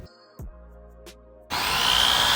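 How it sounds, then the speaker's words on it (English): A power drill bores holes to fit a side skirt on an F30 BMW, starting abruptly with a loud, steady whirring grind after some quieter knocks and hums. "just drilling the hole and then making sure the screws can screw on properly"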